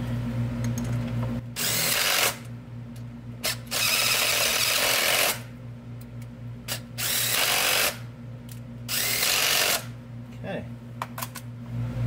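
A power tool zips bolts into a GR Corolla pitch stop mount in five or six loud, close bursts of a couple of seconds each, separated by short pauses, over a steady low hum.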